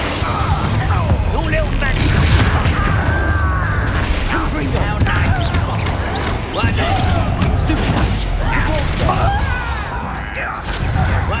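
Hogwarts Legacy combat, loud continuous booms, crashes and whooshes of Confringo spell blasts and other spells, dense layered impacts throughout with a voice speaking over the action.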